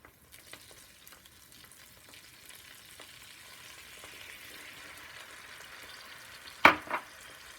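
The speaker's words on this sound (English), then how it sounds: "And the peppers are done. Like it's frying." Soft, steady sizzling of peppers frying in a pan, fairly quiet, with a sharper clatter near the end as the pan is stirred.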